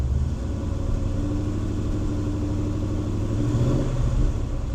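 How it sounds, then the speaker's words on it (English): A car engine rumbles steadily at close range, building slightly in intensity toward the end as it revs, with no voices. "Let's rev it up a little bit."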